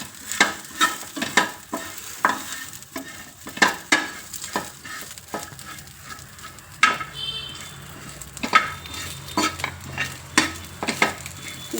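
Brinjal pieces roast in hot oil as a spoon stirs them, giving repeated scraping clinks against the pan over a steady sizzle. The stirring comes in an irregular rhythm throughout, close and fairly loud, with no talking.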